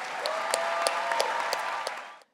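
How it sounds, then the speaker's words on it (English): A graduation convocation audience applauds summa cum laude graduates, a steady wash of clapping from a large crowd with a few louder individual claps, fading out at the end. "Let's give a round of applause for all of our summa cum laude graduates."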